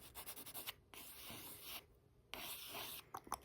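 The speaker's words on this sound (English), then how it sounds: "I just drew what's called a circle." A pencil scratches on paper while drawing a circle, making soft, close rubbing strokes broken by brief pauses, quiet and intimate in a soft-spoken ASMR setting with no talking.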